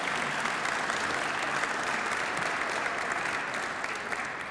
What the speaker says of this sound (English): Thank you so much for your generous applause